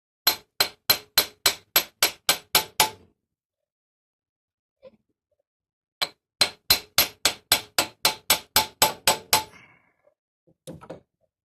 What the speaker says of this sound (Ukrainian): Тепер ми що робимо молоточком коц